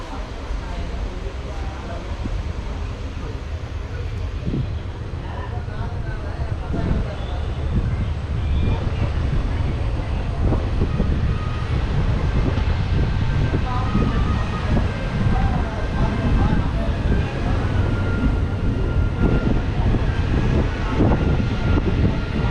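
A train pulls away from a station on the Nilambur–Shoranur route in Kerala, a continuous heavy rumble with occasional clanks and knocks building steadily as it picks up pace, heard close by.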